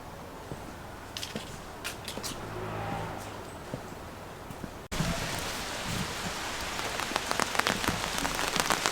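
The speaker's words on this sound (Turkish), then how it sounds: "Arkadaşlar bu arada şu anda hafiften yağmur başladı." Light rain patters steadily on a London street in Notting Hill near Portobello, a soft even hiss that turns louder and denser partway through, with scattered sharper drips.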